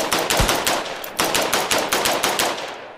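An R15 gun in a video game fires with unlimited ammo in rapid bursts, loud sharp automatic shots repeating in quick rhythmic volleys with brief pauses between.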